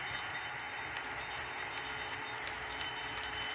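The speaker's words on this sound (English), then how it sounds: "Here we see our train weaving its way through the junction" Continuous rolling rumble of an HO-scale model train running on track, with faint clicks and squeals as it passes over a junction.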